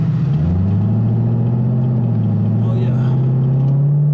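A C7 Corvette with a 500+ hp cam pulls hard up an on-ramp, its deep engine rumble rising steadily in pitch under a brief exclamation from the driver.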